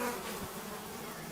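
Flies buzz around a deer carcass, a dense steady insect drone close by, alone, with no voices.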